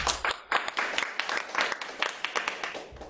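A seminar audience claps for a guest speaker after a talk, with individual claps standing out as separate sharp bursts in an uneven, moderately sparse rhythm, with a voice briefly audible underneath.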